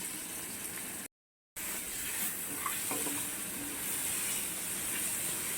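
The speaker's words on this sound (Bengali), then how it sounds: "আমি পেঁয়াজটাকে লাল লাল করে ভেজে নেব" Chopped onions frying in a small amount of oil left over from browning chicken, giving a soft, steady close hiss and sizzle that runs throughout with one brief gap.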